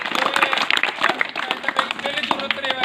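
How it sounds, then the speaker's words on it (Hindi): An audience applauds at a welcome ceremony held by an akhara, with dense, continuous clapping from many hands and voices talking over it. "ताली बजाओ"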